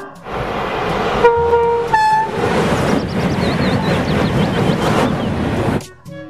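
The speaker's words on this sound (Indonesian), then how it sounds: "di sini ada kereta cepat" A toy high-speed train plays its electronic sounds: bright horn toots followed by a running rumble and chirpy tones, fairly loud and close, ending abruptly.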